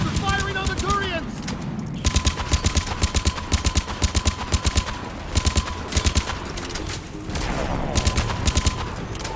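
Rapid automatic weapon fire from a harvester attacking Turians in Mass Effect comes in repeated loud rhythmic bursts, mixed with game effects, while voices shout over the action.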